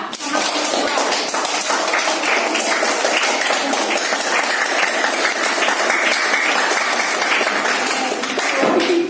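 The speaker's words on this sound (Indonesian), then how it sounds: "Oke, beri tepuk tangan dulu ya." Classroom applause, a dense and steady burst of many students clapping together, loud and close, sustained evenly for several seconds with faint voices mixed in.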